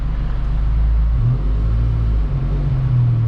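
Volkswagen MK6 GTI with an HPA K04 turbo running on a dyno, a loud, steady low engine drone and rumble that climbs slightly in pitch as it accelerates, with no voices.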